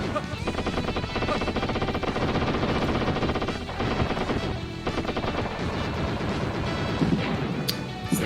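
Gunfire in the video game Wild Guns: Reloaded, dense rapid shots and explosions pounding continuously and loudly with a voice talking over the action.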